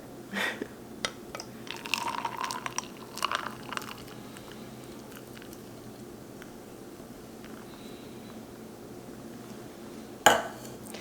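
A spoon stirring coffee with creamer in a cup, faint liquid swirling with light clinks against the cup, mostly in the first few seconds, then quiet, and one sharp clink near the end.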